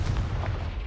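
A Confringo blasting spell in Hogwarts Legacy lands as a single heavy, rumbling boom lasting about a second, deep and close.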